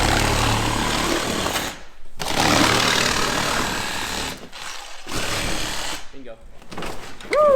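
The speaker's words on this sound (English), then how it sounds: "So now you need the sawzall, you need to cut right here" A sawzall cuts through a pickup truck's metal roof in loud, buzzing bursts broken by short pauses, close up, with a voice briefly in between.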